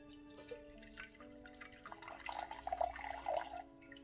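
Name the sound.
water poured into cover pot for ivy plant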